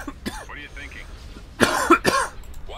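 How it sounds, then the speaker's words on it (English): A person coughs during a Star Wars: Empire at War space-battle gaming session. A voice is heard briefly first, then two harsh, close coughs follow in quick succession. "why am I coughing so much?"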